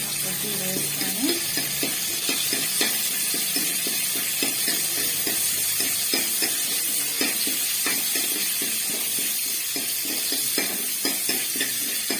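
Peanut pulusu being fried and stirred in a pan, a steady loud sizzle running throughout with frequent scraping stir strokes on top, no voices.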